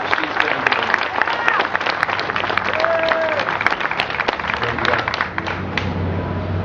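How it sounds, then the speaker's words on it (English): A crowd at a July 2009 Tea Party rally in Greeneville, Tennessee gives a round of applause, dense clapping sustained steadily throughout, with a brief voice rising over it midway. "she deserves a round of applause"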